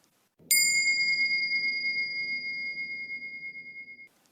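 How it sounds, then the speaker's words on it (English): A light meditation bell rings once with a clear, sustained ding that fades slowly over about three and a half seconds, over soft low background hum, with no talking. "There will then be a light bell sound,"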